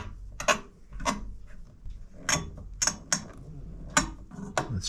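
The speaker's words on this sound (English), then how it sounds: "Let's try to evenly screw this down." Screws are driven down evenly on a PC CPU cooler, several sharp ratcheting clicks and brief scraping bursts at irregular intervals, close up and moderately loud, with no talk.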